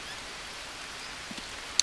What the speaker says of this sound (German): es regnet natürlich wieder